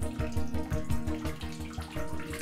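Purified water running through pipes into a greenhouse tank, a steady close rush of flowing water with a faint rhythmic pulsing underneath.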